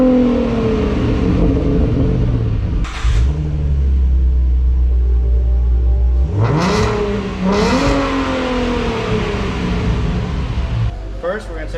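A Ford Mustang V6 3.7L with a Borla exhaust and Roush intake revs up and down several times with a deep, throaty exhaust rumble, loud and close, with a few hiss-like bursts between revs.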